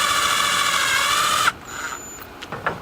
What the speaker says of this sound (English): Now I'm just going to put a self-tapping screw in here.